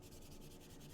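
Hand sanding a primer coat on a workpiece in a shop: steady, dense scratchy rubbing with a quick back-and-forth pulse, close and continuous, with no talking.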